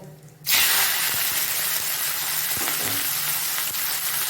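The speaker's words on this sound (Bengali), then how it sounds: "চিংড়ি মাছগুলো একটু ভেজে নেবো এই তেলেই।" Prawns dropped into hot oil for a Bengali dal, where a burst of loud hissing sizzle starts suddenly and keeps going steadily, close up with occasional light stirring clicks.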